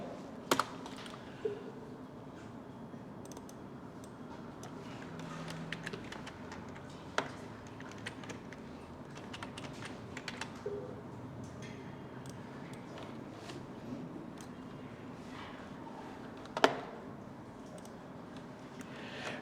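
Faint, sparse clicks of typing on a computer keyboard, a few sharper taps scattered across a quiet, steady background hum.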